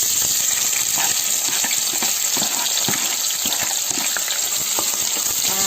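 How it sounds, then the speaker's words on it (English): Chopped onions frying in a pan for chicken biryani, a loud, dense sizzle that holds steady from start to finish, with small crackles and pops scattered across it, close by and with no talking. "After sauteing for 1 hour, I'm going to add the chopped onions here."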